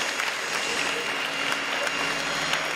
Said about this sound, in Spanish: No, por favor, no aplaudáis esto.